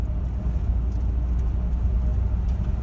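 Steady low rumble of a car cruising through a tiny town, with constant road and engine noise and no talking.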